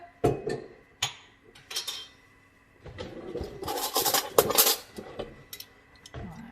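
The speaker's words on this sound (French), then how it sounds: "je vais mettre mes 200 g de petits oignons." Small onions being dropped into a pan over a filet mignon, a mix of close clinks, knocks and rustling clatter that thickens into a busier burst midway, with no talking.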